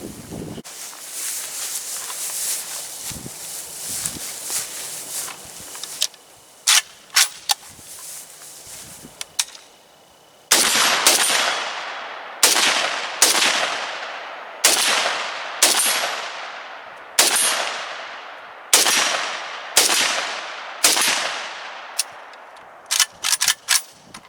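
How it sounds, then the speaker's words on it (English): A Palmetto State Armory AK-104 rifle fires outdoors at a range: a run of loud, sharp shots, first in quick strings, then as evenly spaced single reports with echoing tails and some wind noise. "Gun's running good. We're on target. Mags all work. She's smooth as butter to shoot."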